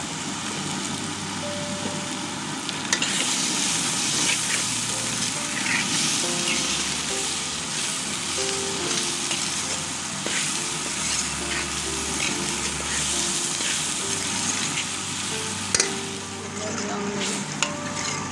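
Potatoes frying in oil in a pan with chillies added for an aloo anday breakfast, a steady, dense sizzle that continues throughout with occasional stirring clatter and faint background hum.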